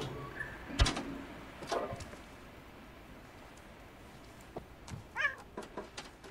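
A cat in the Stray video game, set in the slums, gives a couple of short meows amid scattered game noises and a few sharp clicks, with quiet gaps between the sounds.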